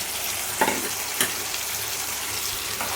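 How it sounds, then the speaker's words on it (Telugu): A hot tempering poured into a prawn and gongura curry sizzles in a steady, close, loud hiss, broken by two brief utensil clinks. "ఇప్పుడు దీన్ని కలియబెట్టిన దాన్ని ఇందులో వేసేసి మీరు తాలింపు అనేది వేసేసేయండి."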